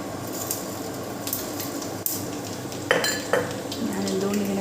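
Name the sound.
mustard seeds and urad dal spluttering in hot coconut oil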